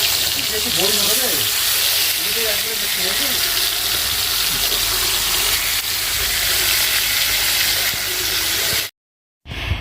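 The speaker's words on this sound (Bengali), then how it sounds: "আর মাছের ভাজাটা বসিয়ে দিলাম" Fish coated in salt and turmeric frying in a pan in a tin hut kitchen, a steady loud sizzle and hiss with faint voices underneath, cutting off briefly near the end.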